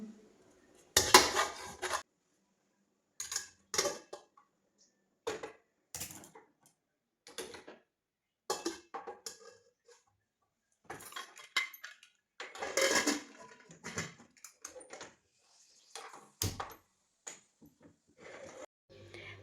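Steel pots, lids and dishes clatter in intermittent bursts of clinks and knocks while a pressure cooker is loaded with rice and dal in a home kitchen, with quiet gaps between handling sounds.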